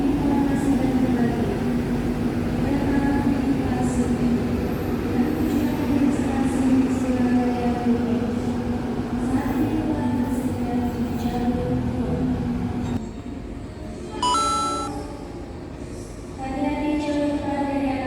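On the Bandung-Jogja line, a passing train overtakes close by with a steady, loud rumble and clatter for about thirteen seconds, then drops to a quieter hum with some faint tones and voices.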